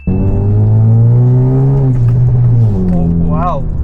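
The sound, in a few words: Honda Civic FB R18 automatic accelerating hard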